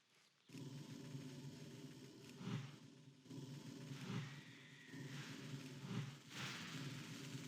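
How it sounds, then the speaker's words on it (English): A loud truck rumbles past outdoors, a low droning engine that swells in and out over several seconds with a hissing road-noise wash on top. "someone in a super loud truck just drove by"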